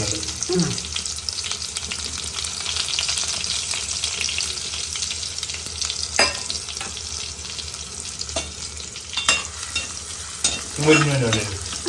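Green chili, curry leaves, ginger and crushed shallots fry in a pan with a constant crackling sizzle, punctuated by occasional scraping and stirring knocks of a spoon.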